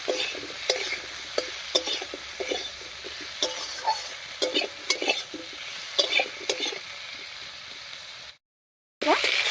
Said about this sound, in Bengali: নাড়িয়ে বসে আলুটাকে একটু ভাজা ভাজা মতো করে নেবে